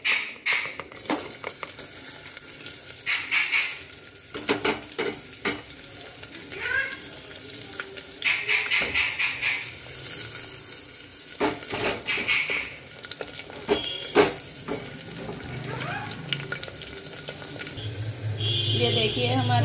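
Onions frying in hot mustard oil inside a pressure cooker, a steady crackling sizzle broken by scraping stir strokes, with clatter and bursts of spatter throughout, close and fairly loud.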